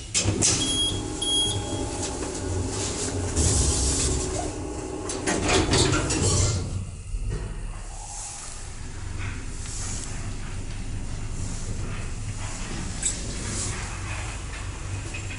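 A freight elevator with 630 kg capacity, travelling at 1 m/s in a village building, moves with a steady low mechanical hum and rumble. Clanks and sliding-door bangs in the first seven seconds give way to a smooth, continuous drone.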